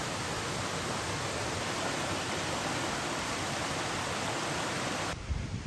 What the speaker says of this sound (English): That's probably the best you're going to get of that cascade of waterfalls.